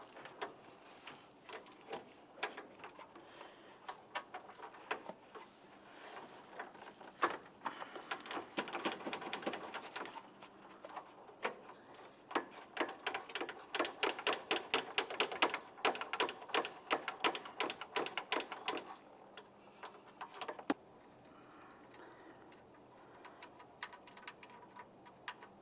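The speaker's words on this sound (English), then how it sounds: "Remove each of the nuts and then the lines from the AC condenser." A wrench clicks and ratchets in quick, irregular bursts while 13mm nuts come off the AC condenser lines of a 1998-2002 Lincoln Navigator; the sound is close but fairly quiet.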